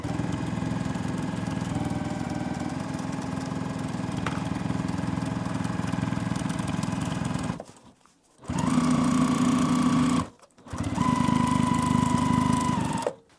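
A sewing machine hums steadily while stitching pockets onto a bag panel for a craft supply caddy, one long continuous run followed by two shorter bursts with brief pauses between them.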